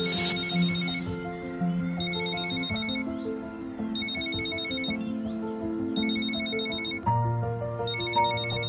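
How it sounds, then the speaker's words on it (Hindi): A phone rings in a romantic drama scene, a bright electronic ringtone repeating in five regular bursts over soft background music, close and clear with no talk. "तुम्हारा फोन बज रहा है।"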